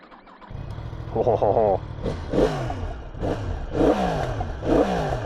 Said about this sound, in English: let's start up that CP4 engine